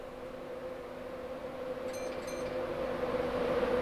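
A train hums in Train Simulator on the ECML Hertford Loop, a steady engine drone with a tonal whine that grows gradually louder. Two short beeps come near the middle, and no voices are heard.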